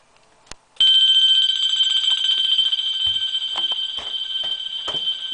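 A fire alarm system bell rings loud and continuous, a steady piercing metallic tone that starts abruptly after a brief click and carries on without pause, with faint clicks underneath.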